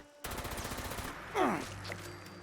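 Gunfire in the video game Fallout 76, a sustained burst of rapid shots with a swooping effect mid-burst, loud and close with no talk over it.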